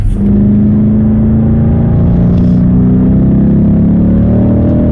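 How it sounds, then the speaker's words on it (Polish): A BMW engine rated at over 500 horsepower purrs loudly and steadily up close, a deep, even rumble that runs unbroken through the clip with no talk over it. "Silnik mruczy, mamy ponad 500 koni pod pedałem gazu."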